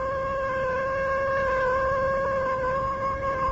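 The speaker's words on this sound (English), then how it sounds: "I told you it was a lucky cat." A cat in a radio drama gives one long, sustained meow that carries steadily and loudly, close and alone, with no voices over it.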